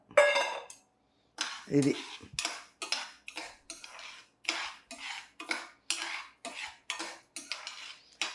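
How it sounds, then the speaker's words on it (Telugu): Dry rice being roasted and stirred in a metal pan for a Tamil Nadu–style sweet, with a steady series of scraping, clinking spoon strokes at a quick, regular rhythm, close and fairly loud, with no talk. "ఈ బియ్యాన్ని వేయించాలి"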